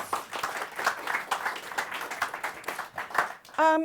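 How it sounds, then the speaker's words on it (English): A small studio audience applauds and cheers briefly, with voices mixed into the clapping, and a short electronic tone sounds at the very end. "a round of applause from the audience"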